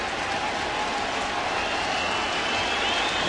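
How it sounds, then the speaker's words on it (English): Crowd of roughly 40,000 at a baseball stadium, a broad continuous roar of cheering and clapping that holds steady throughout, distant and diffuse. "Now the crowd trying to get into it."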